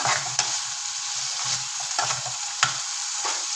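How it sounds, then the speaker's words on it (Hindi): Chicken coated in tikka masala being stirred in a hot pan, a steady sizzle with repeated scraping strokes and a few clicks of the utensil against the pan, close and fairly quiet. "और इसे अच्छी तरह हिला लेंगे"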